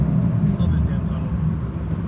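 Tow truck driving through a tunnel, a steady low engine and road rumble echoing close by, with someone speaking over it.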